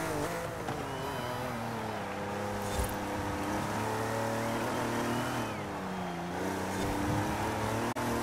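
Jaguar XJ13 race car in the video game Forza Horizon 5, its engine droning loud and continuous at high revs, pitch sweeping up and down through gear changes as the lap runs on without pause.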